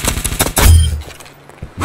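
Rapid bursts of gunfire from a multiplayer video game, a quick string of close, sharp shots followed by a heavier thump, then quieter scattered shots with lower voices faintly underneath.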